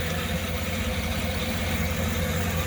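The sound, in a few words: Cadillac Escalade 6.2 liter V8 engine idling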